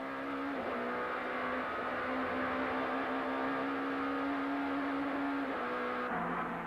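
Touring cars race at Kyalami circuit in the 1994 South African Touring Car Championship, with a BMW leading uphill. A loud, sustained engine drone holds a steady pitch, then shifts toward the end.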